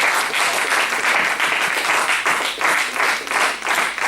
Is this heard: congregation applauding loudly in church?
yes